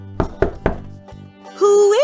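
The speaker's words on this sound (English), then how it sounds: "Moments later, Granny heard a knock at her door." Three sharp knocks land on a door in a puppet-theater telling of Little Red Riding Hood, evenly spaced and close, then a rising vocal tone follows.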